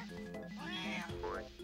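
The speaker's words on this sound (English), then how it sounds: "More cat warriors." Cat warrior enemies in the video game Banjo-Tooie let out a couple of rising, wavering cartoonish meows, close and clear over a steady game backdrop.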